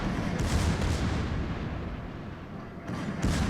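Secondary guns of the German battleship Scharnhorst firing in a World of Warships naval battle, heavy continuous booming and rumbling barrages with dense overlapping blasts, loud and sustained throughout.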